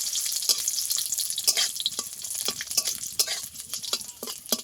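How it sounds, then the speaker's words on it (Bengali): Neem leaves frying and being stirred in a pan, a steady bright sizzle broken by repeated sharp scrapes and knocks of the spatula at an even, close rhythm, with no talking. "একদম ভালো করে নিম পাতাগুলোকে ভেজে নিতে হবে।"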